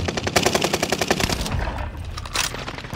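Automatic gunfire in a multiplayer shooter game rattles in a fast, rhythmic burst for over a second, then scattered single shots follow, loud and close with no talk.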